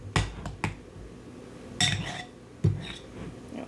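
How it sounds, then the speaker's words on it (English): A spoon stirs cream cheese danish filling in a bowl, giving several sharp, close clinks in irregular bursts with quiet gaps between them. "Got one more little quick stir."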